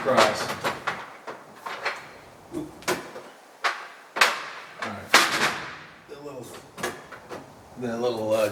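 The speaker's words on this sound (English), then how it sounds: "The little drawer guide screwed up on it." A small drawer with a faulty, damaged drawer guide is opened and closed several times, giving repeated sliding scrapes and wooden thumps while someone talks in between.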